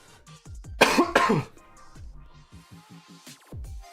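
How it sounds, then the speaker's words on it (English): A person coughs and clears their throat in a series of short, close bursts, with a couple of louder harsh coughs early on followed by smaller repeated hacks. "Sorry for my coughing, guys."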